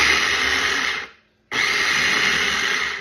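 A Pampered Chef Twist and Chop chopper cuts peppers for salsa with a loud, close whirring chop in two bursts separated by a short pause.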